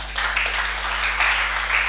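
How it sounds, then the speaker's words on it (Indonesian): A church congregation applauds during a sermon, a steady wash of many hands clapping at an even level for the whole stretch, with no voices over it. "Kasih tepuk tangan itu Tuhan."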